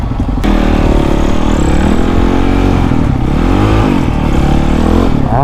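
A motorcycle engine drones loudly and close-up while being ridden, with rising and falling revs and a continuous harmonic hum that starts abruptly after a brief pause.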